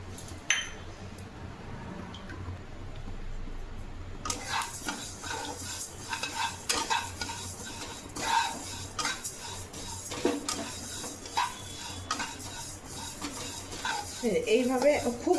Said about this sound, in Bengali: শুকনো কড়াইয়ে আমি এটাকে ভেজে নেব